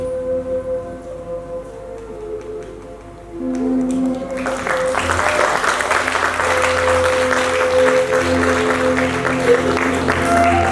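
An audience applauds after a stage drama performance in Kanpur, Uttar Pradesh. A sustained, loud burst of clapping breaks out partway through and continues to the end over a held musical tone.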